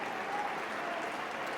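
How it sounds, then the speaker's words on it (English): Dundee United supporters applaud at the end of a football match, a steady wash of crowd clapping heard without break, fairly distant and even. "he takes the applause of the Dundee United supporters at the end of a debut defeat"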